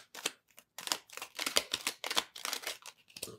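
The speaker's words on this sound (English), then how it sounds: "Let's go ahead and give these cards a shuffle" A new deck of glossy tarot cards is shuffled by hand, bursts of crisp riffling and slapping in quick uneven groups with short pauses between, close and fairly quiet.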